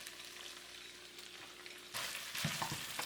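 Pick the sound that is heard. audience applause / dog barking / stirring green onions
stirring green onions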